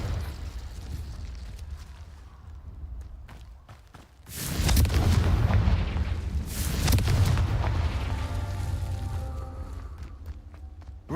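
Confringo fire spell explosions in Hogwarts Legacy, two heavy booming blasts a couple of seconds apart, each with a long rumbling tail over lighter footsteps and game ambience.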